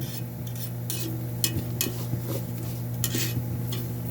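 Chilies toasting in a pan while being stirred, repeated scraping and clinking strokes of a utensil against the pan at an irregular rhythm over a steady low hum, close and clear.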